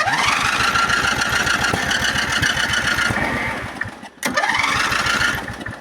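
Engine cranking and catching after the ignition key is turned, a steady rapid chugging loud and close for several seconds, with a brief drop and restart near the end, no talking.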